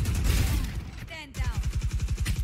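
Rapid, evenly spaced gunfire in Valorant, heard through a wall, with a steady rhythmic burst of muffled shots that follows a louder rumbling stretch of game noise.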